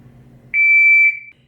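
An electronic shot timer used at shooting competitions gives a single sharp, loud, steady high-pitched beep of about a second, clean and close, after a faint low rumble.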